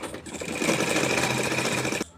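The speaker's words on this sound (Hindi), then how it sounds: "अब हम यहाँ से सिलाई लगा देंगे।" A sewing machine stitching a kurti collar runs in one steady, fast, rattling burst for about two seconds, close and loud, then stops, with no one talking.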